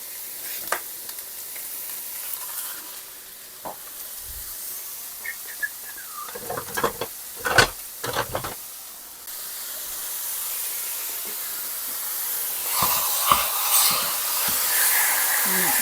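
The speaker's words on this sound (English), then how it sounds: "We're going to brown it up for the inside mixture of the cabbage rolls." Ground beef browning in a frying pan for cabbage roll filling, a steady sizzle and hiss running throughout with scattered scraping clicks of a utensil breaking up the meat, growing louder and brighter toward the end.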